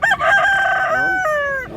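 Rooster crowing at a chicken market in Consolacion, Cebu: one loud, nearby cock-a-doodle-doo with a rising start and a long falling tail, over a low murmur of market background.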